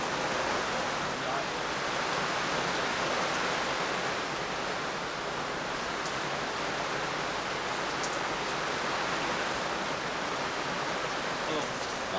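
A rain squall drums on a sailboat in the Grenadines, a steady, dense hiss of rainfall that stays even and fairly close throughout, with no other sound breaking through.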